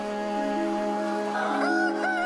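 Chickens in a crowded poultry shed cluck and crow continuously, a dense layered flock sound with several louder calls rising near the end, no talking.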